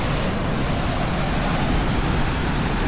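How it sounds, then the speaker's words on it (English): Tuolumne Falls in Tuolumne Meadows roaring as a dense, continuous rush of falling water heard up close, loud and unbroken with no voices. "Tuolumne Falls."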